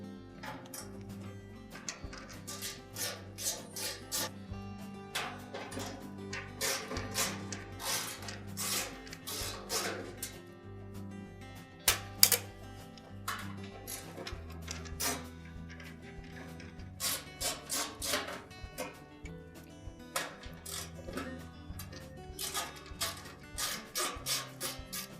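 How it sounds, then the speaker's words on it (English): Screws are backed out of the rear panel of a Whirlpool dryer, giving a faint, steady run of small ticking and clicking sounds with no voices, close by but quiet throughout. "Now we need to remove all of the screws holding the back panel on."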